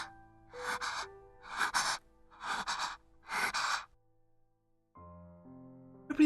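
A dying girl in the visual novel Chaos;Child breathes shallowly and with effort: four short, strained gasping breaths in even rhythm, close and alone, followed by a pause and soft tonal music.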